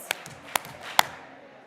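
A church congregation at a Sunday service claps three times, three crisp separate claps roughly half a second apart in a quiet room, each fading quickly, with a faint hum of the space between them.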